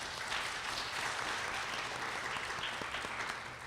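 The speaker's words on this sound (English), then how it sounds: "A big round of applause for Traci and Bennett." Audience applause at a Harris County domestic violence survivors' event, a steady dense wash of clapping from a crowd that holds for several seconds at even loudness with no talk.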